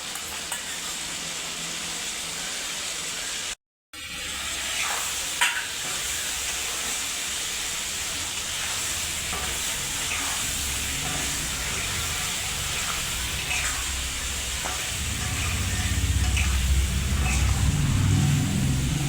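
Batter made with poppy seeds and green chilli fries in a pan for vegetarian aloo posto. It gives a steady, close hissing sizzle that cuts out for a moment, then grows into a louder, rumbling bubble near the end.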